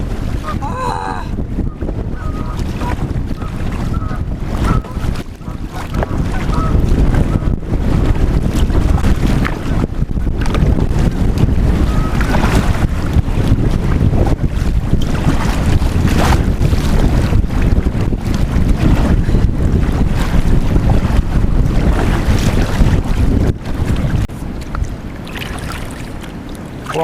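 Strong wind buffets a microphone while kayaking on the West Nishnabotna River, a loud continuous rushing roar with gusty swells, and a voice occasionally heard faintly beneath it.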